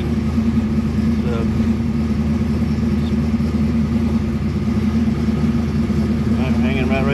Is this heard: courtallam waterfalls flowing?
no